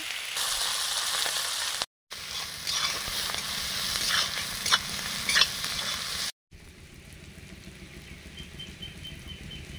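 Panch phoron, onion and green chili sizzle and crackle steadily in hot mustard oil, with brief pops and stirring, the frying briefly cut off twice before continuing softer.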